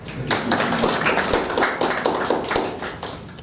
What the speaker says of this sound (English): Maybe we should clap.